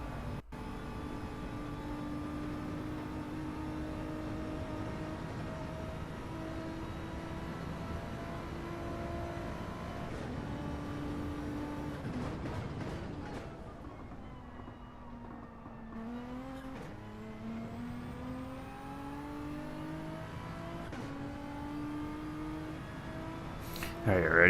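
Race car on a circuit during a live online racing event, engine roaring past at about 146 mph, loud and continuous with pitch sweeps as it shifts and passes, a sharper rising rev near the end.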